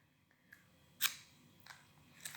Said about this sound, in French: vous prenez les ciseaux.